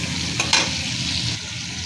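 Prawns frying in hot oil in a pan, a steady close sizzle with a brief scrape of stirring near the middle, no talking.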